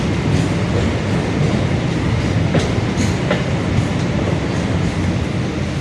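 An MRTS commuter train in Chennai climbs toward an elevated line, producing a loud, unbroken rail roar with faint rhythmic wheel clicks and no voices.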